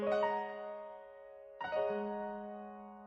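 A dominant sus4 chord is sounded twice, each strike ringing out and decaying, the second starting about halfway through; clear sustained harmonic tones, fairly soft, with no voices.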